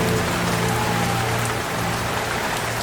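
Rain falling on a rainy day at a small water-lily wetland, a dense, even patter of drops on surfaces that holds steady and fairly loud throughout.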